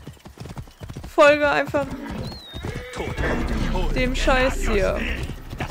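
A horse gallops in the game Assassin's Creed Origins with steady clip-clop hoofbeats under a loud whinny early on, while someone talks over the running gait.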